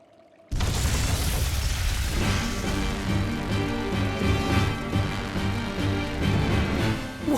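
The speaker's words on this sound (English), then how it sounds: "Tools of flamestone, sulfur, and oil. Those will explode." Flamestone, sulfur and oil detonate in Tales of Berseria. A sudden loud boom follows a brief quiet moment and rolls into a sustained, rumbling blast with crackling debris that lasts several seconds.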